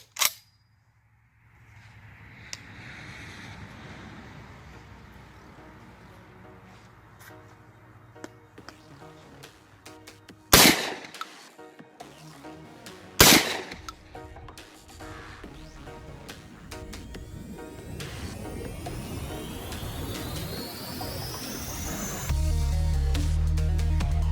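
A Panzer Arms AR12 shotgun fitted with a carry handle and A2 front sights fires, with two loud, sharp blasts a few seconds apart and a brief crack at the very start, over steady outdoor background noise.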